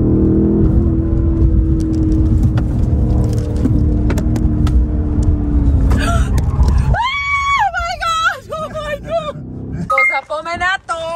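A BMW M850i Gran Coupe pulls away. A loud, steady engine drone rises and then cuts off, followed by a high shrieking voice and excited talk close by.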